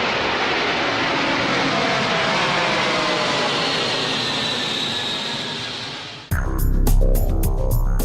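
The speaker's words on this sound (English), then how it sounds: "the ironically named little brother to the biggest jet in the world, the Antonov An-124" Antonov An-124 strategic airlifter with loud jet engine roar, a broad steady rush with a faint rising whine that fades slightly before a sudden shift to a nearer, harsher mechanical hum in the last two seconds.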